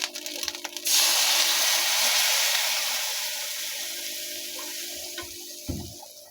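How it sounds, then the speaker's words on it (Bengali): Water pours into a hot pan with an egg frying in it, giving a loud burst of hissing steam that slowly fades, then a brief clatter near the end. "আমি এটার ভিতরে কিছু পানি দিয়ে দেবো, যাতে করে এটা সেদ্ধ হয়।"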